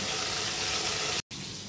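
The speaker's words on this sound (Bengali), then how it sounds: "নুন দিয়ে পটলগুলোকে লাল করে ভেজে নেব।" Pointed gourd (potol) slices frying in oil with salt, giving a steady close hiss and crackle that runs without a break and cuts out for a moment near the end.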